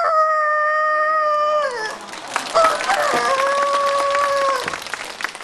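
A rooster crow imitated by a human voice on a comedy show, a long wavering call that breaks off, followed by a second shorter crow over loud laughter and applause.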